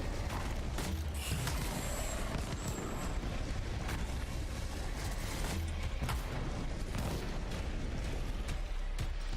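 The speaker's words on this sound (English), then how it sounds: "Even the explosions don't feel the same." Explosions and grenade-launcher blasts from the video game Anthem, heard as scattered low booms, pops and mechanical clatter in a steady, fairly quiet rumbling mix, with no talk.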